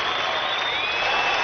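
A large stadium crowd at X Games 13 Big Air applauding skateboarder Jake Brown after his fall, heard as a dense, steady wash of clapping and crowd noise with a faint voice mixed in.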